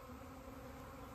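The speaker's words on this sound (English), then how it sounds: "I watched this swarm coming out of the hive." A honey bee swarm pouring out of a hive, a faint, steady droning hum with tonal layers and no breaks over a brief moment.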